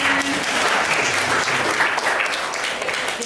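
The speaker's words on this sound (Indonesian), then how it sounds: "Tepuk tangan semuanya" Indoor audience applause at a casual school best-practice sharing session, steady dense clapping that fills the whole moment at close range with no talk over it.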